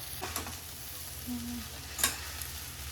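Garlic noodles are stirred in a pan, a soft low sizzle with a few scraping clanks of the utensil, fairly quiet and without speech.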